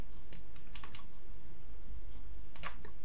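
Computer keyboard keys clatter in a few short bursts of typing and shortcut presses while cutting text inside a spreadsheet formula bar during Excel exam practice, crisp and close, with no talk.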